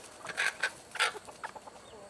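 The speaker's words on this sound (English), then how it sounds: "a rooster." Chickens on a backyard farm with Welsumer hens and young roosters, bursts of clucking and squawking calls, several short close calls across two seconds with no talk.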